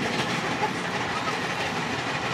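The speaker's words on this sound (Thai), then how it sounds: "รถไฟคนแน่นมาก" Inside a crowded train riding toward Pompeii, a steady loud rumble and hiss of rail travel fills the space continuously, with no distinct voices standing out.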